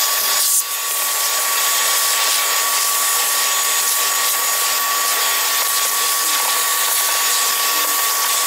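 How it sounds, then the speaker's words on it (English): A vacuum cleaner works inside the engine bay of a TVR Cerbera, giving a steady, loud, unbroken whine and rush that runs for over eight seconds without pause. "get a Hoover in the engine bay"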